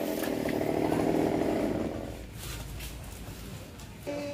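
A chainsaw revs and buzzes through a coconut tree at a distance, its whine fading then rising again, with rustling and faint voices around it.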